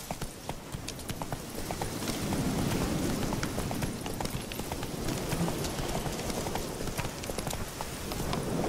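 Horse hooves gallop steadily in The Witcher 3, a fast continuous clatter over a dense, noisy outdoor game soundscape, with no speech.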